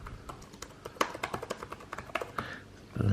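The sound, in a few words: typing on Surface Book 2 laptop keyboard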